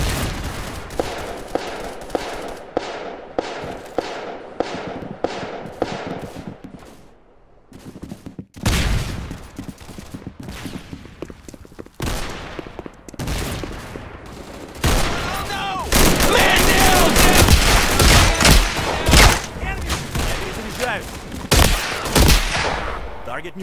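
Gunfire in a Roblox first-person shooter game: loud rapid bursts and volleys of automatic shots, sometimes dense and sustained, with brief pauses and excited voices shouting between the shots.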